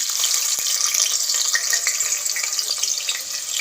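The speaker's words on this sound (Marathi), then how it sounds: "आता यामध्ये आपण बारीक चिरलेला कांदा ॲड करूया" Finely chopped onion fries in hot oil in a pressure cooker, a loud, dense, continuous sizzle with crisp crackles close up and no voices.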